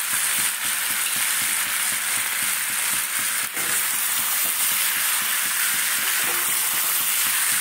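Spices with coriander powder fry in a pan, giving a steady, dense sizzle with small crackles and occasional stirring scrapes, close and continuous throughout.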